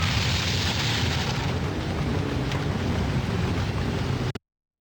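A loud explosion in the video game GTA London 1969 bursts into a dense, rumbling roar that holds steady for about four seconds before cutting off abruptly into silence.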